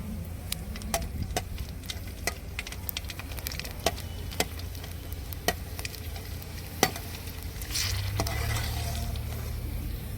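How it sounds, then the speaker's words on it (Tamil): Continuous sizzling and bubbling of puris deep-frying in hot oil, with scattered pops and crackles; the sizzle swells louder near the end. "இப்போ நான் எல்லாமே போட்டு பொரிக்க போகிறேன்"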